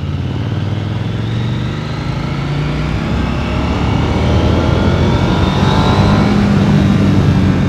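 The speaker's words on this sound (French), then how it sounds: "la sonorité moteur quand on passe comme ça sous un tunnel" KTM Duke 890L motorcycle riding through a tunnel, its engine a loud, continuous rumble with reverberant low tones and a gradually rising pitch as it pulls steadily throughout.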